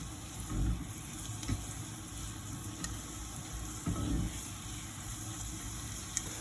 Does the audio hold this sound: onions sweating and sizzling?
yes